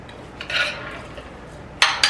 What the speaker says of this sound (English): And then I'm going to add my beans. Stir that up.